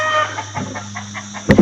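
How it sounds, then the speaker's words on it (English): Chickens on a rainy, misty day: a rooster's crow fades out into a series of rhythmic clucks, ending in a sharper squawk, moderately close and loud, with no talking. "the chickens are going crazy"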